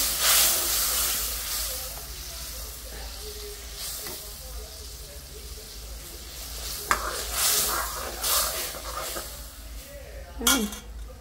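Dal is poured into a hot tempering of cumin, garlic and onion, and hissing bursts of sizzle and steam rise over stirring and pot clinks. A voice talks intermittently over the close, uneven frying.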